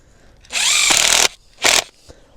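A power drill drives screws into a garden cloche frame, two close, loud bursts with the motor whining up under load, the first long and the second short, with no talk.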